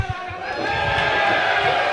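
Arena crowd at a wrestling match roaring and cheering for wrestler Angus Keyser, a dense, sustained wall of voices that builds and holds loud throughout.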